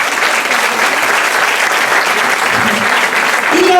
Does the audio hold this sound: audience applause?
yes